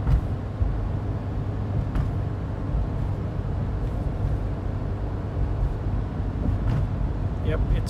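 Toyota Prius with a failing hybrid battery straining to accelerate toward 30 mph, a steady low road and drivetrain rumble inside the cabin with a few faint clicks, no clear speech.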